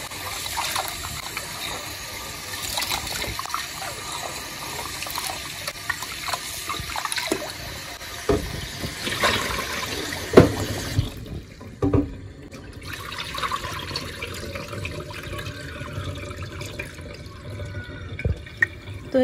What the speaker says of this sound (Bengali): এই যে চালটা ধুয়ে নিলাম